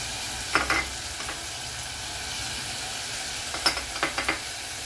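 A spice mixture of chilli masala, garam masala and turmeric is sautéed in a pan, giving a faint, steady sizzle broken by a few quick scraping stirs near the start and end.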